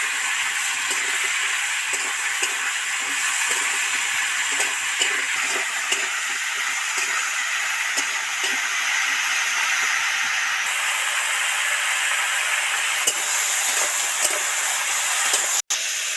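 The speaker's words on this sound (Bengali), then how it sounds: "সবজিগুলো তো ভাজা ভাজা হয়ে গেছে" Chopped vegetables for a spinach curry (palong shak ghonto) fry in a pan after a sprinkle of salt, giving a steady, close sizzling hiss that runs unbroken throughout with faint crackles and no talk.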